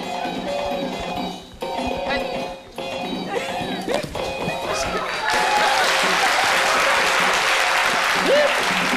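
Studio audience applauding a Zaouli dance performance on an Ivorian midday TV show, with a presenter's voice over scattered noise at first, then dense, steady clapping swelling and holding loud through the second half.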